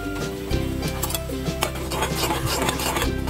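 Tea powder is stirred into milk boiling with ginger in a pan, making repeated soft rubbing and scraping strokes over a steady low hum.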